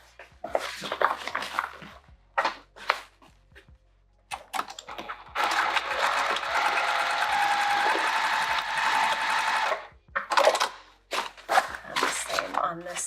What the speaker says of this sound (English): We're just going to sew right across there.